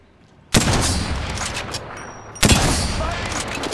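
Two loud bursts of rapid gunfire in the Apex Legends battle royale shooter, the first cutting in sharply after a quiet moment and running on, the second volley starting abruptly near the end, close and dense.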